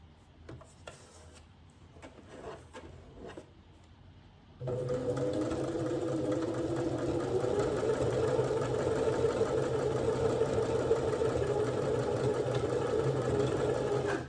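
A domestic sewing machine stitching through a test piece of fabric: after a few quiet handling knocks, the motor starts abruptly and runs in a loud, steady, continuous whirr with a fine mechanical rattle until it stops at the end.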